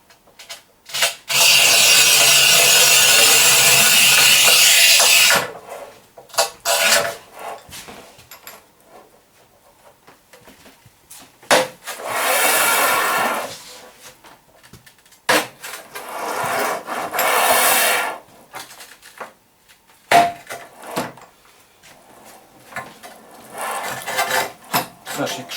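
A manual tile cutter (Rubi HIT-1200 Plus or Shijing 1352) scoring 1200 mm tile: a harsh grinding scrape runs for several seconds, followed by quieter scraping and shorter rasping passes, with occasional faint knocks between them.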